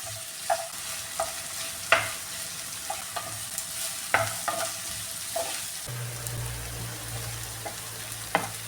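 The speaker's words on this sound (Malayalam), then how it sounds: "ഇത് നന്നായിട്ടൊന്ന് ഫ്രൈ ആക്കി എടുക്കാമേ" Onions sizzle steadily in a hot pan for chicken biryani, with a soft continuous frying hiss and intermittent clacks of a spoon stirring against the pan, close and without talk.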